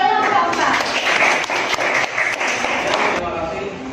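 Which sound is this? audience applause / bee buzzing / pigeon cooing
audience applause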